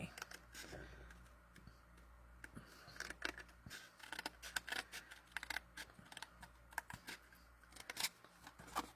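Scissors fussy cutting a stamped paper image, with close, irregular snips and small paper rustles scattered throughout, quiet and uneven in rhythm.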